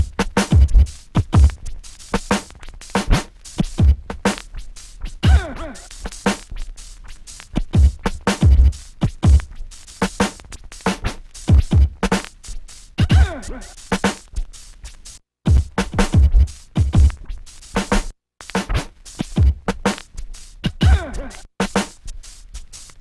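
A DJ scratches vinyl records in a repeating triplet walk pattern, producing rapid rhythmic bursts of scratches grouped in threes with short gaps, loud and close throughout.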